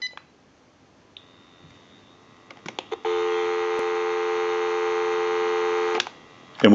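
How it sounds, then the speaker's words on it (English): A few clicks are followed by a steady, loud telephone dial tone that holds for about three seconds on a General Electric 6.0 cordless phone under repair, then cuts off with another click. "We'll go ahead and give you some dial tone."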